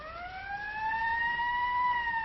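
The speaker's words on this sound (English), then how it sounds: "There's the ambulance now." A wailing ambulance siren rises steadily in pitch, clear and continuous, sounding from a short distance with no voices over it.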